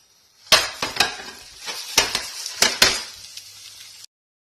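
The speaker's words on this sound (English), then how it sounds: "We turn the omelette so the other side can be fried." A Spanish omelette sizzles in a frying pan while sharp clinks and scrapes of a utensil against the pan punctuate it in a handful of close, irregular knocks before stopping abruptly.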